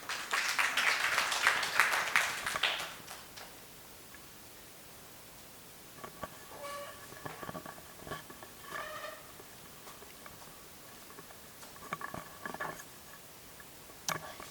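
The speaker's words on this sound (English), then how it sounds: "Let's give another big round of applause" Audience applause at the close of a presentation on gender and climate change, a dense burst of clapping for about three seconds, then quieter scattered sounds and faint voices.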